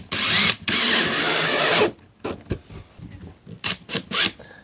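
A power screwdriver whirs loud and close in two bursts as it drives screws through plasterboard into timber, then gives way to quieter clicks and handling knocks.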